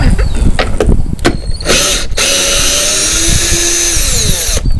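A power drill removes bolts from a Jeep Wrangler headlight, whirring in short bursts, then running in a long steady whine with ratcheting clicks, loud and close.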